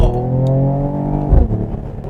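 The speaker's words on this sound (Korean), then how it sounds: "정규 속도 내에서 배기 사운드 좀 들려볼게요" Mercedes-AMG GT43 six-cylinder exhaust in Sport Plus mode, driven at legal speed on an open road: loud, close engine drone rising through revs, with a brief roar and crackle near the end.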